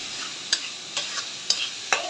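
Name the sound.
onions and spring onion leaves stirred while frying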